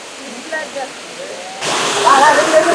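Rushing roar of Mettuguda waterfall near Seethampeta, Srikakulam, fills the scene, swelling louder partway through, with a few faint shouts and voices over the steady water noise.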